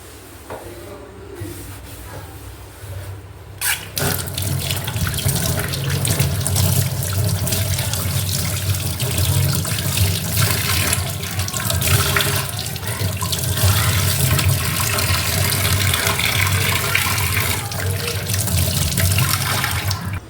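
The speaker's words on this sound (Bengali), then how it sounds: "যে কটা বাসন হয়েছিল যে মেজে রেখে দিয়েছি আমি রান্না করতে করতে মেজে ফেলি" Tap water runs steadily into a kitchen sink while dishes are washed, with close splashing and the occasional rub or knock of utensils lasting about twenty seconds and no speech.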